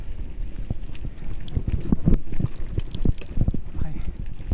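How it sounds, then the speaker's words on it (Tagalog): Steady headwind buffets the microphone while cycling along a long uphill trail, a loud continuous rumble with gusty surges throughout, and the rider talks under it. "Yung hangin yung nakakapagpahina sa akin."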